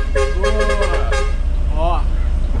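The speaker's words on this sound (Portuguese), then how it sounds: "Nossa, buzina, buzina, buzina." A loud bus horn honks in a long blaring blast, then a shorter one, close by over heavy engine rumble and road noise, at a bus enthusiast festival.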